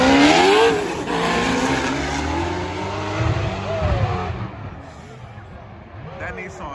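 Nissan drift cars at a Formula Drift event in 2021 screech their tires loudly in long skids over revving engines, the squeal rising and fading as the cars pass while spectators talk and shout nearby.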